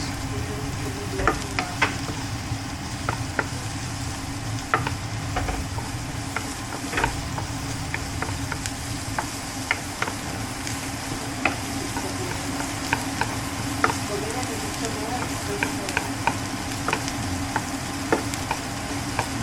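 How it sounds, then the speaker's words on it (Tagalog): Onions are stirred in a pan, a steady close sizzle broken by repeated scraping and clicking of a utensil at an irregular rhythm. "Then mikos-mikos natin ang sibuyas."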